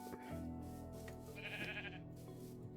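Sheep bleat faintly in Minecraft, a short wavering cry over a steady hum of background game sound, with no talking.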